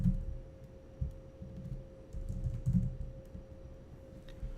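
Computer keyboard typing while editing code for a MEAN stack web app, with irregular bursts of close, soft key clicks and short pauses, no talking.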